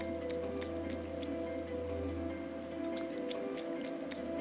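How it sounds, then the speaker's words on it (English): Steady rain in the video game Soul Hackers 2, a continuous soft patter with scattered drips and taps over a faint constant tonal hum from the game, even and unbroken throughout. "Dashing through the rain"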